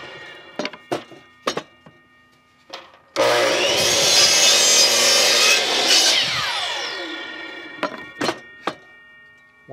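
A saw cuts a wooden block for a carpenter bee trap in one loud, continuous rasping stroke run of about three seconds, framed by several sharp wooden knocks and taps before and after.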